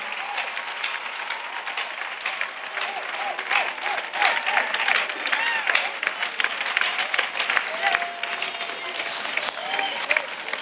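Congregation clapping and applauding at a lively church service, steady dense rapid claps filling the space with overlapping voices and calls from the crowd.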